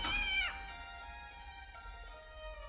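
A white kitten inside a room gives a single short, rising-and-falling meow at the very start, followed by a faint lingering tone and quiet room background.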